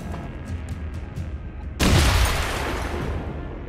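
Gunfire in the video game XCOM: Chimera Squad, a sudden loud burst of shots partway through over low in-game ambience, then a decaying rumble that lingers to the end.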